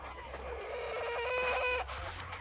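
A chicken clucks and squawks in a quick run of calls, close by, with faint background noise.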